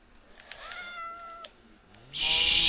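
A cat meows twice in a row, fairly close, with drawn-out tonal cries, followed by a burst of loud hissy noise at the end.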